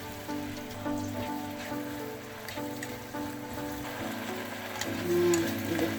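Steady bubbling and sizzling from sauce boiling in a pan, a dense patter of small pops that continues throughout with no voices.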